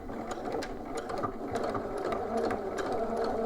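Sewing machine back stitching and then edge stitching along a shorts seam, running in a continuous close whir with quick rhythmic ticking of the needle.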